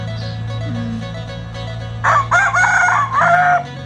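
A rooster crows loudly and close, a single drawn-out crow with broken, wavering phrases after a stretch of low steady background hum.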